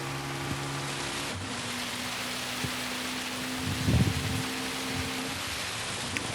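Steady wash of rain or sleet in a racing video game, soft and constant throughout, with a faint low rumble and a brief thud near the middle.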